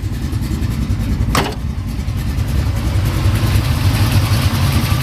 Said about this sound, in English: Nothing like a small block Chevy with a few screws turned on it.